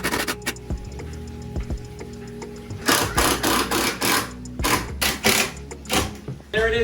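Screws are driven into a wooden border for an indoor fish and turtle pond, a close, loud power driver whirring in short repeated bursts with rattling mechanical chatter between them.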